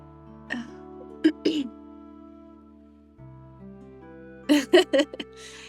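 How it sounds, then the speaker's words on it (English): Two bursts of harsh coughing, a pair of coughs early and a quick cluster of three or four later, close up over a low electronic hum. "it's like I was just coughing"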